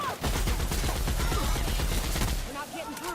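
A heavy-recoil gun in The Outer Worlds fires a steady rapid stream of loud, punchy shots that stop abruptly near the end, leaving a fading ringing tail.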